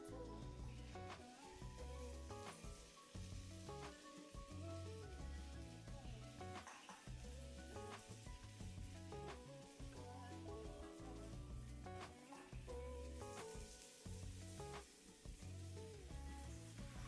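Banh khot batter poured into hot vegetable oil in a mini-pancake pan over high flame sizzles and crackles steadily and close, with music playing throughout.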